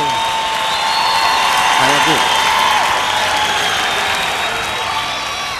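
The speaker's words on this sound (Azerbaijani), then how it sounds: "dayanmadan 15-20 saniyə Məhərrəm müəllim üçün xüsusi bir alqış" Sustained audience applause for Məhərrəm, dense and steady from a theatre crowd, with occasional whoops and cheering over the clapping, fading slightly toward the end.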